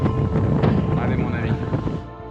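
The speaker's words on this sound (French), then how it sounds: "Je peux vous jurer qu'on est sur du plus de 100 km/h de vent." Strong wind over 100 km/h in Iceland, a loud continuous roar buffeting the microphone with gusting surges that ease slightly near the end.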